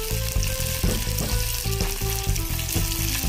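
Pieces of homemade paneer fry in hot oil for a matar paneer pulao, giving a loud, constant crackling sizzle with faint rhythmic knocks of stirring throughout, no voices.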